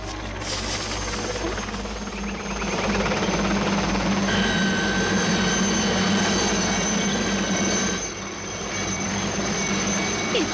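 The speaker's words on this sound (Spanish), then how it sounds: "Deberían prohibir a los helicópteros volar sobre zonas residenciales." A helicopter flies over a residential area in Miami, its steady rotor drone and engine whine loud and continuous throughout, briefly dipping before swelling again.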